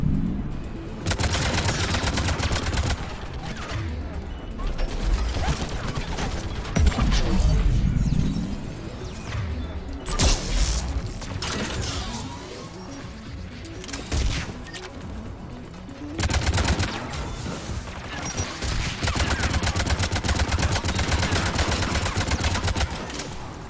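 Mounted turrets fire in a Mass Effect 3 battle, a dense, continuous roar of rapid gunfire and impacts. The barrage stays loud and close, dipping briefly between bursts.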